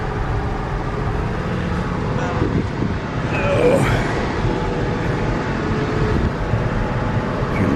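A 1966 Ford F100 Stepside short-bed truck, warmed up, idles high with a steady engine rumble and a faint whine over continuous background noise.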